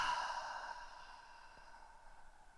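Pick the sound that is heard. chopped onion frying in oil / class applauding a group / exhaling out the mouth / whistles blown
exhaling out the mouth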